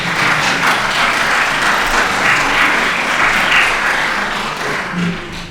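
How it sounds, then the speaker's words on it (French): Loud, steady applause fills the room from an audience at a science conference, a continuous wash of many hands clapping for about five seconds and fading slightly near the end. "On vous applaudit bien fort."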